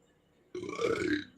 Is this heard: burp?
yes